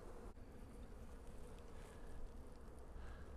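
Honey bees swarm around brood frames being shaken from a hive during a split, giving a dense, steady buzzing drone close by that holds at an even level throughout.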